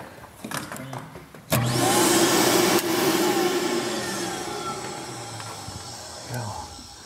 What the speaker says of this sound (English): I got the heat gun, so I can warm it up and kind of conform the cable so it's straighter.